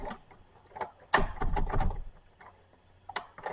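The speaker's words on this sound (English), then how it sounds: "If you don't put this piece of trim around it, it's gonna go past the latch." A door without stopper trim swings past its latch, giving a sharp wooden knock followed by a rattle and a few softer bumps. The sound is close and quiet.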